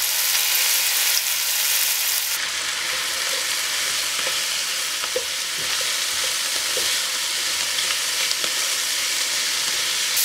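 Parsley, herbs, lemon zest and garlic fry in a pan along with small chopped fried potatoes, giving a steady, dense sizzle with light stirring clicks and scrapes throughout.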